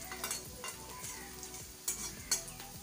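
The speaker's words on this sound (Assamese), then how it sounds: "এতিয়া মই পিঁয়াজ আৰু জলকীয়াটো ভাজি লৈছোঁ।" Onion and green chili fry in a pan with a soft, steady sizzle, broken by quiet scraping stirs and a few sharper clinks of a spatula against the pan.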